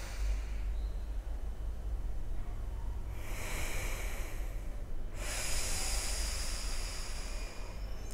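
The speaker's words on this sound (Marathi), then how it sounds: "डाव्या नागपुडीतून दीर्घ श्वास भरा" Deep breaths drawn through one nostril at a time during alternate-nostril pranayama, heard as soft, close airy hissing that swells into two longer, louder inhale-exhale passes.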